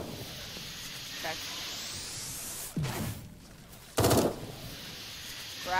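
Assault rifle fire in the Eden Star video game: short bursts and sharp single shots cut through a steady synthetic hum, with a loud burst near the middle and faint game effects around it.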